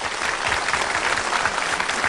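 A studio audience at a Lunar New Year television gala claps in steady, sustained applause, a thick even wash of many hands with no pauses.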